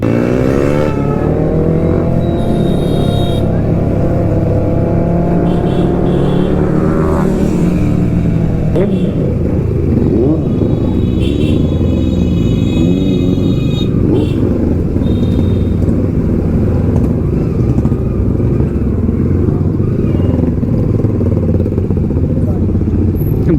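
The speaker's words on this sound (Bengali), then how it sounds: "ভাই বেনেলি আওয়াজটা চেক করো" A Benelli superbike's engine and exhaust roar loud and steady while riding through Kolkata, revving up early on and then holding a continuous close drone, with a voice briefly audible over it.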